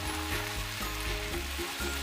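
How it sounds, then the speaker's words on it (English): Scallions and chicken thighs sizzle steadily in hot oil in a pan, a dense, continuous frying hiss with a low hum underneath, close and even throughout with no speech. "Strong onion oil fragrance. Look at this beautiful color. Well caramelized all sides."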